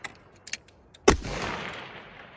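A single loud precision rifle shot at a long range course, firing at a steel target. It cracks sharply and then rolls away in a long echoing tail, after a few faint clicks beforehand.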